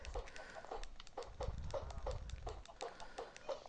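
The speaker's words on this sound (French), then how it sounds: "Ça fait quand même beaucoup de poules." In a Minecraft-style block game, a flock of chickens clucks in soft, evenly repeating bursts. Faint tapping and game noise sit underneath, and the whole scene stays quiet.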